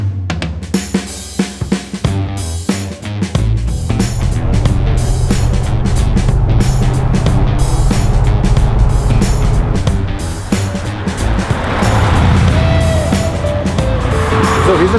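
A vintage Tatra 87 streamlined car is driven on an outing, its engine starting up and then running loudly and steadily from inside the car, rising and falling with acceleration over a sustained drive.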